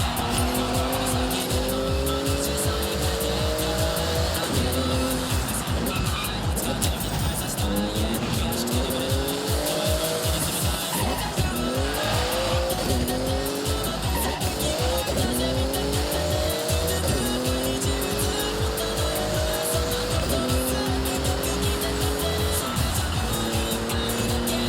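A Porsche in Forza Horizon 6 races through a speed zone, its engine screaming up through repeated rising gear pulls while tyres squeal and skid, loud and continuous throughout.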